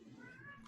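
A pet cat gives a single short meow, faint and brief, in the background of a room.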